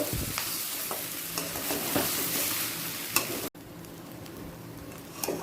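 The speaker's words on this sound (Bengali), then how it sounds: "চালটা মুড়ো আলু পেঁয়াজ আদা রসুনের সাথে ভালো করে মিশিয়ে নেব" Soaked Gobindobhog rice, potato and fish head are stirred in a hot pan with onion, ginger and garlic, sizzling steadily with scraping spatula strokes, then the frying drops to a quieter hiss.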